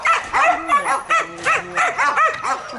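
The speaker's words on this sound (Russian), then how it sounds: "Собака Рада." Close, loud dog barking in a rapid series of sharp yips and whimpery barks, nearly continuous with brief gaps.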